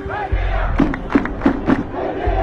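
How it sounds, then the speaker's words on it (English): A protest crowd in Sudan chants slogans, with a dense mass of voices rising in several rhythmic shouted beats over a constant low rumble of crowd noise. "Crowds chanted slogans from the Arab Spring revolutions of 2011"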